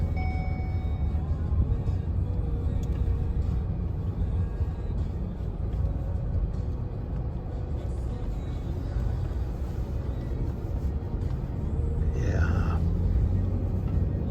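Lincoln Navigator SUV on a test drive, a steady low road and engine rumble heard from inside the cabin throughout, with a brief rising whine near the end, no talk.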